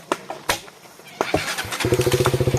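A motorcycle on the road in front of Longding Higher Secondary School gives a few sharp clicks and bumps, then its engine catches into a loud, close, steadily pulsing putter.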